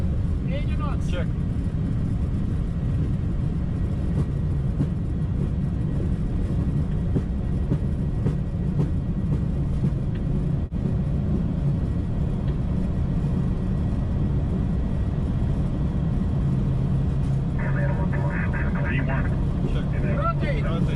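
A Boeing 737-800 builds toward takeoff thrust, heard from the cabin as a steady low roar and rumble that holds throughout, with crew voices talking over it.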